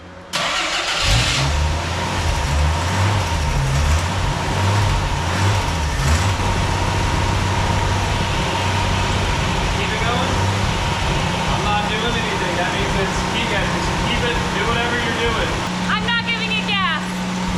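Jeep CJ7 cranking and firing up after sitting, then settling into a high, uneven idle with a rumbling engine throughout; people talk and cheer over the running motor near the end.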